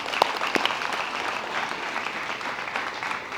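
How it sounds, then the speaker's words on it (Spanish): A church congregation claps in sustained applause, a dense even patter with a few sharper claps near the start, moderately loud with no talking over it. "Vamos a darle un aplauso."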